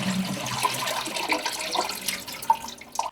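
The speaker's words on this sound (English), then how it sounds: "So now you know that that noise is the sound of air travelling up the pipe to stop the flush." A household toilet gurgles after its flush as air travels back up the drainpipe: a short, uneven stretch of wet bubbling and sloshing water, close by and moderately loud, with no talking.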